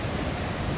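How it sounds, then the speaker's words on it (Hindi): Steady broadband rush of a waterfall in Jim Corbett National Park, loud and continuous without break, no voices. "दोनों झरने दिखाई देने चाहिए"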